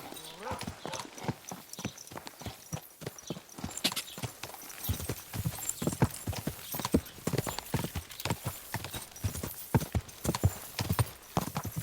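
Rapid clip-clop of horse hooves in the video game Kingdom Come Deliverance 2, steady and fairly loud throughout, with voices talking over the galloping.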